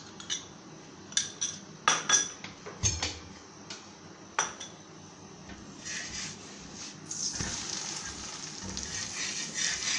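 Aloo paratha, a potato-stuffed flatbread, cooks in oil on a pan, with a few sharp utensil clinks and taps early on, then a soft, steady sizzle rising near the end.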